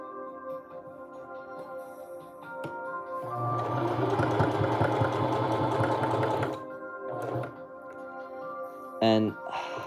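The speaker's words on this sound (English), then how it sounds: "this is actually a new sewing machine I got a while back as a Christmas gift from my mom" A new sewing machine runs steadily for a few seconds with a loud, even mechanical whir. A short burst follows after a pause, and a voice talks over the sound.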